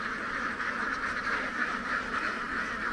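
Ducks quack continuously at night in a Mekong Delta rice field where farmers let their flocks roam, a dense, steady chorus of many birds close by.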